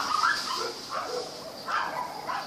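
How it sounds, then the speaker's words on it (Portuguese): Neighbour's dogs bark and yip in short bursts, a little distant, several barks overlapping in quick succession. "Os cachorros do vizinho aqui fazem uma bagunça."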